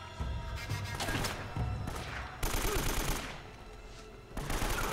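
Bursts of automatic AK rifle fire in Uncharted: Drake's Fortune crackle in rapid rattling volleys, separated by short lulls, with a player's faint voice underneath.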